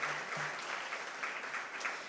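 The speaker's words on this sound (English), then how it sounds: "Let's give Dr. Fujimoto another round of applause." An audience at a community meeting applauds, a soft steady patter of many hands clapping at a moderate distance.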